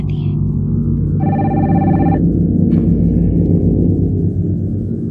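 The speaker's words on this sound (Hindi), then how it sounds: "आपके लिए फोन है, कॉल ऑफ लाइन पर है" A telephone rings in one short burst of about a second, its bell tone clear above a dense, rumbling film soundtrack from a 1989 spy movie dubbed in Hindi.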